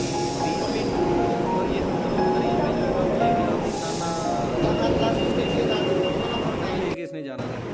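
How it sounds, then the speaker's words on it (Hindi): An underground metro train in Rome rumbles loudly and continuously through the station with faint wheel squeals, and voices are heard over it before a sudden cutoff near the end. "आ गए हम ये नीचे मेट्रो का जो स्टेशन है ज़ेरे ज़मीन बना हुआ है"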